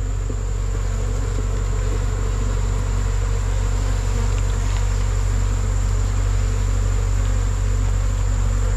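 Bees swarm and buzz around a hive frame freshly cut from a colony nesting inside a tree, making a dense, steady drone that stays loud and close throughout with no voices.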